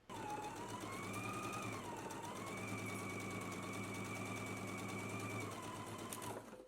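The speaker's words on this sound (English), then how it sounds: "let's go ahead and stitch using a 5/8 of an inch seam allowance." A sewing machine runs in one steady, unbroken burst stitching a 5/8-inch seam on a pant pocket, its motor whirring at an even pace and cutting off at the end.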